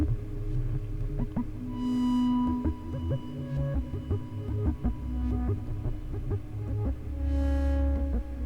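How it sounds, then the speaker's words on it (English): A Behringer Neutron synthesizer plays a stream of shifting electronic tones with randomized pitches, steady and fairly loud, with brief brighter swells near the start and end. "And this is just a sine wave."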